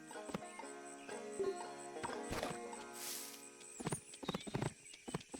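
Horse hooves clip-clop in the farming game Cattle Country, a short uneven run of close hoof taps over soft background music, lasting a few seconds.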